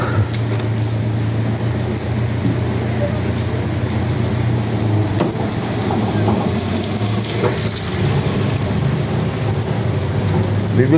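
Steady rain pours down in a continuous hiss, with a low hum underneath and occasional faint rumbles.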